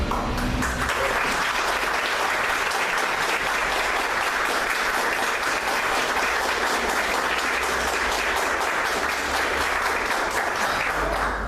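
Audience applause in an indoor gathering, a dense steady clapping from a sizable crowd that fills the whole stretch at even volume.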